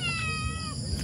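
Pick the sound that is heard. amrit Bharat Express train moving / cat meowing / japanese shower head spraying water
cat meowing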